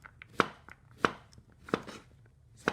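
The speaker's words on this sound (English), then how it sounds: "So I'm dicing my courgette, but they're quite big pieces" A knife dices large pieces of courgette on a board for a quiche, giving four sharp, evenly spaced chops with faint scraping between them, close and alone with no talk.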